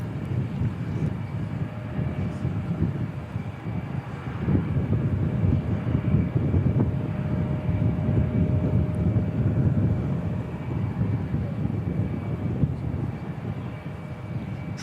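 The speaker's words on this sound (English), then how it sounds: "P68 was coming in, looks like it's" A Partenavia P68 light twin flies a missed approach at Christchurch Airport, a steady low engine drone with a faint whining tone, distant and partly buffeted by wind noise.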